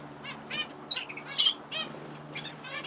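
A caged cock canary, a variegated bird in the middle of three cages, chirping indoors in short bright bursts of tweets and trills, close and moderately loud over a steady low hum.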